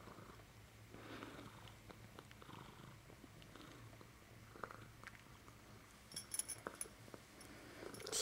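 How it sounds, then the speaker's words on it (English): A low, steady purr rumbles close by, quiet and continuous, with a few faint rustles near the end. "Hear the purr."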